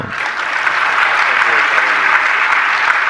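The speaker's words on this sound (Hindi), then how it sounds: "ताली तो बजा दो" An audience at a Jain religious discourse applauds in a loud, steady wash of clapping that stays even and sustained throughout, close and full.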